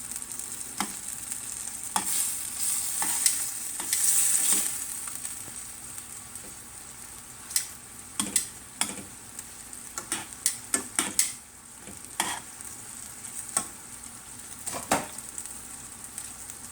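Shrimp scampi sizzles in a pan with a steady frying hiss, while tongs turn the shrimp in a run of sharp clicks and scrapes near the end.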